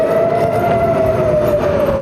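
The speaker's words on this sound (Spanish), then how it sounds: "en Israel las sirenas no dejaron de sonar en todo el día" An air raid siren in Israel wails steadily on a sustained tone, loud and continuous within a noisy, wide outdoor wash of sound.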